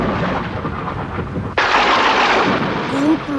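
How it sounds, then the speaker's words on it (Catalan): Thunder during a heavy rainstorm in an animated cartoon, a sudden loud crack and rolling rumble that breaks over a constant roar of rain, with a brief voice near the end. "Com plou! I no para de tronar."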